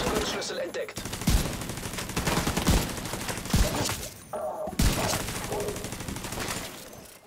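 Dense gunfire rattles through a shootout in the video game The Division 2, with loud continuous bursts and sharp individual shots stacking over one another, briefly easing about midway before resuming just as heavy.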